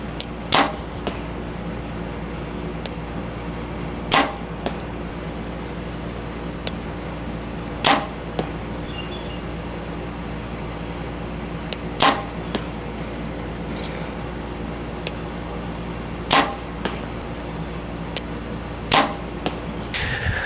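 Arrows shot from a PSE Mach 30 compound bow strike a target in sharp, isolated impacts, about six evenly spaced thwacks over twenty seconds against a steady low outdoor hum, with no talking.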